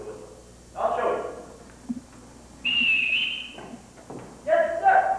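A shrill whistle is blown to summon the household in a 1988 high school stage production of The Sound of Music: one sustained, piercing blast between stretches of talking voices.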